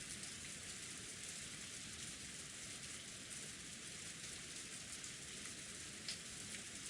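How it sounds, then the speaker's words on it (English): Steady pouring rain, a sound effect from the visual novel Umineko When They Cry: a continuous, even hiss of rainfall, fairly faint and unbroken throughout, with no voices. "Apparently I was lying on asphalt under the pouring rain."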